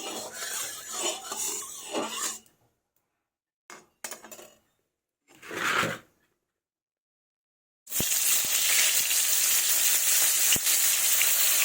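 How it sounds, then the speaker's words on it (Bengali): Some clatter and short bursts, then a loud, steady sizzle of snakehead fish frying in hot mustard oil in a wok that holds without a break until the end. "কড়াইয়ে সরিষার তেল দিয়ে দিয়েছি, এবার মাছগুলো দিয়ে দেবো, দিয়ে ভেজে নেব।"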